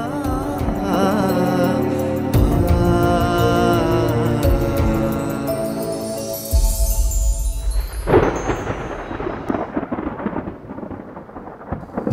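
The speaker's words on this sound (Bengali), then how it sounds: "মেঘ ডাকছে" Thunder rumbles on a rainy night, a deep, sustained roll that swells and fades across the whole stretch, with rain hiss and some music-like tones layered over it, a heavier crack near the end.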